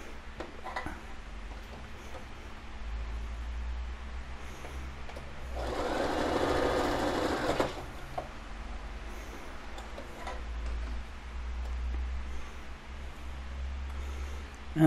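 A sewing machine stitches elastic onto a fabric mask in one short, quiet burst of about two seconds, surrounded by faint room noise and small handling sounds.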